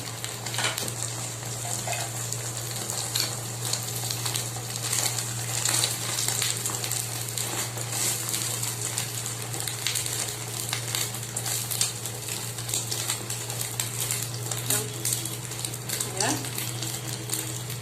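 An egg roll frying in refined oil in a pan, giving a steady bright sizzle with crackling pops throughout, while a person speaks over it.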